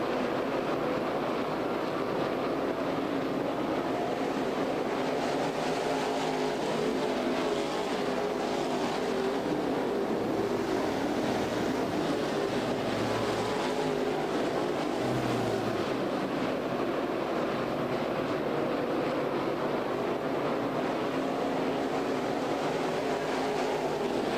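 Stock cars race at the Clayhill Motorsports track during a 2013 NeSmith Touring Series event. Their engines make a loud, continuous, broadband roar for the whole stretch, with the swell of the passing field rising and falling slightly.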